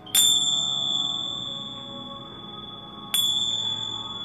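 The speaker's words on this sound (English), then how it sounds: "It's actually like a Chinese bell." A Chinese bell gives two bright metallic strikes about three seconds apart, each leaving a clear high ring that decays slowly over a quiet room with no talking.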